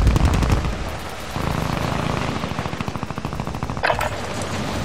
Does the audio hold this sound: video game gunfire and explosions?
yes